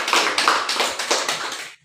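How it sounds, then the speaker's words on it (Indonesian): A high school class applauds together in a classroom, a short burst of close, rhythmic hand clapping lasting under two seconds before stopping abruptly. "Berikan aplaus tepuk tangan untuk."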